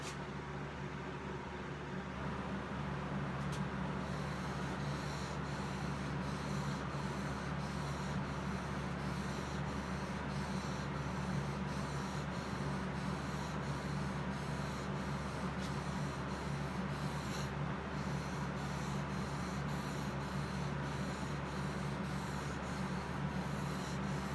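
Chisel sharpened freehand on a 1000 grit sharpening stone, a steady, continuous rasping scrape that rocks back and forth without a break, fairly quiet and close, with no talking.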